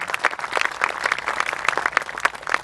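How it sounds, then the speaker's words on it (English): A crowd at an outdoor Memorial Day Healing Field ceremony in Murfreesboro, Tennessee, gives a sustained round of applause. The clapping is dense and even, with scattered sharper claps rising above it. "Let's give Richie McDonald one more great round of applause"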